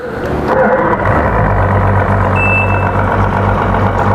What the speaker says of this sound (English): And as usual, you hear the beep because of the control box.